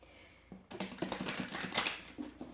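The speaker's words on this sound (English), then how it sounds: "for some reason, I'm shuffling again" A deck of tarot cards being shuffled close by: after a quiet, hissy start, a dense burst of rapid papery riffling and flicking runs to the end, with no voice.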